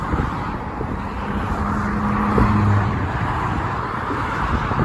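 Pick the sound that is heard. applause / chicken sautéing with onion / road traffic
road traffic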